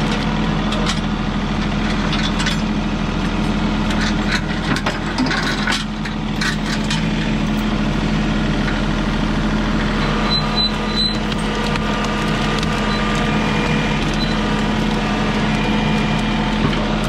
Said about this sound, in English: Tractor's running great.